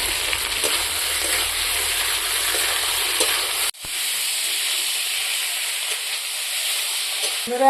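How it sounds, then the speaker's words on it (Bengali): Pre-fried potatoes tossed into a pan of frying spice masala, a loud continuous sizzle and hiss with stirring, a brief break midway, then the frying picks up again. "এখন আমি ভেজে রাখা আলুগুলো দিয়ে দিলাম।"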